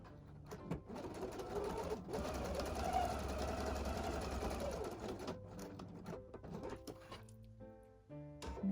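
Sewing machine stitching fabric for a pouch, a fast, even mechanical whir running close up for several seconds, then slowing into short bursts and clicks as it stops and pivots at a corner.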